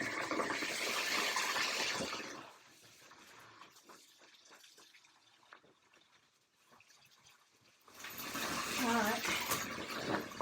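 Tap water gushes loudly into a container while cleaning a mouldy bell tent, stopping for a quieter stretch of small handling sounds, then pouring hard again near the end.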